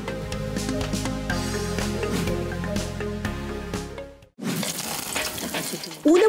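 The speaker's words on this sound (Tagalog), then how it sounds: "Una munang magigisa ng bawang at sibuyas." Garlic and onion sauté in a hot pan for a ginataang shrimp dish, a steady close sizzle with stirring scrapes, then a sudden louder hiss as more ingredients hit the oil.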